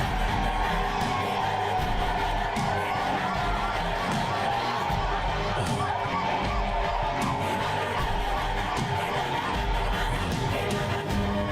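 A large crowd roars and cheers continuously, a dense, loud wash of many voices with whoops rising out of it and no pause throughout.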